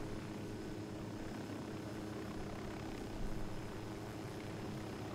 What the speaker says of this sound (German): Wir sind immer noch im Heli unterwegs.